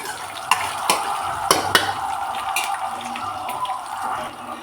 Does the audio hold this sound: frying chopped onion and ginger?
yes